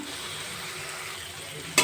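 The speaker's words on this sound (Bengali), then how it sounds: "মশলাটা ভালো করে কষিয়ে নেব মশলার থেকে সুন্দর তেল বেরিয়ে গেছে" A spice paste of ground cumin, coriander and dried chilli fries in oil for a pointed gourd kofta curry, giving a steady, soft close sizzle that ends with a short sharp clatter.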